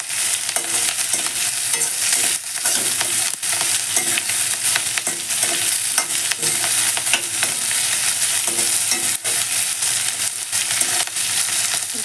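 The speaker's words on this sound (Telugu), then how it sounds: "కాస్త పచ్చిమిర్చి చీలికలుగా చేసుకొని వేయించుకుంటే త్వరగా మగ్గిపోతాయండి." Slit green chillies fry in a pan with a dense, loud, continuous sizzle, overlaid by frequent stirring scrapes and crackles, close up with no talking.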